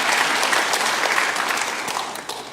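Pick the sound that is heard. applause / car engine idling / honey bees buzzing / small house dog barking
applause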